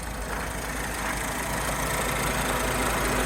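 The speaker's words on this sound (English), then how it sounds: "let's walk round to the front so you can hear that engine" An Alfa Romeo Spider 939 with a 2.2 JTS engine idles steadily at close range, a smooth continuous hum with no voices.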